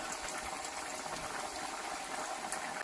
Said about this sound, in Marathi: छान अशा खरपूस आणि कुरकुरीत आपल्याला फ्राय करून घ्यायच्या आहेत